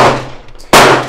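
A single sharp, loud gunshot cracks at an outdoor gun range in California, ending the clip with a bright burst and a fading echo.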